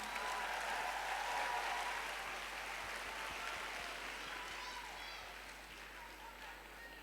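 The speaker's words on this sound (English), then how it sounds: "let's have a round of applause for our negative team" Applause at a junior debate showcase, a steady wash of many hands clapping in a large hall, faint and distant, slowly fading toward the end.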